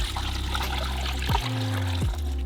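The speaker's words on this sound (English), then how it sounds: "I'm just adding our salt mixture with warm water right into the crock." Warm water mixed with salt brine pours steadily into a crock for turkey brining, giving a continuous close trickle and splash with a couple of brief gurgling shifts.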